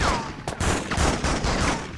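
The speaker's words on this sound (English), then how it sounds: "I just heard gunshots!" Gunfire in the 2004 PlayStation 2 game Spider-Man 2, a brief burst of rapid shots over busy game audio and noise.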